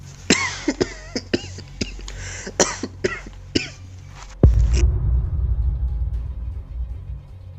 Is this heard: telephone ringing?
no